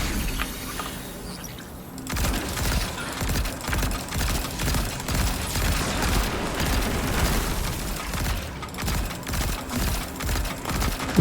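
Rapid bursts of pulse rifle fire in the video game Destiny 2, loud and dense, with repeated multi-shot volleys hammering steadily for about nine seconds after a quieter opening.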